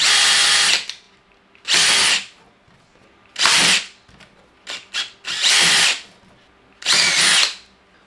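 Five bursts of a power drill boring holes into acrylic, each a few seconds long, with short pauses and a couple of brief blips between them.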